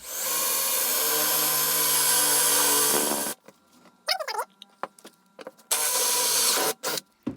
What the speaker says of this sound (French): Je positionne mon forêt exactement à l'endroit où j'ai frappé avec mon pointeau et je perce.